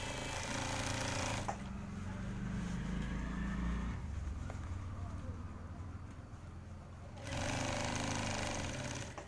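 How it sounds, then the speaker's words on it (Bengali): Sewing machine stitching stretched elastic onto a boy's pyjama waistband, a loud steady mechanical whir in two bursts at the start and end, with a quieter low hum and handling noise between them. "রাবারটাকে টেনে টেনে সুন্দর করে সেলাই দিতে হবে"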